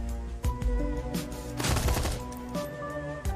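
Full-auto gunfire in the Shadowrun Hong Kong video game: sharp burst clusters with a dense rattling volley in the middle, set over a steady game music bed.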